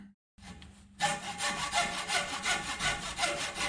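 After a couple of faint scrapes, a hacksaw cuts steadily through wood in quick, rhythmic back-and-forth strokes, close and fairly loud, with no talking.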